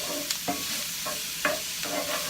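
Onions cook in butter in a pot for crawfish étouffée, with a soft steady sizzle. A few distinct spoon-stirring scrapes come through, close up, and no one speaks.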